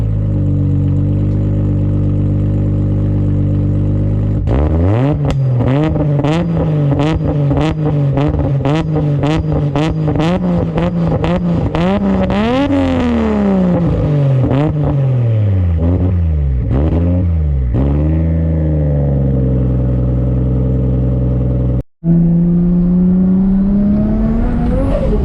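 A built Nissan R33 with an RB25DET turbo engine revs hard in a rapid series of loud, close blips with the pitch climbing and falling, the turbo fluttering as it drops off. The engine cuts out briefly, then settles back to a steady idle.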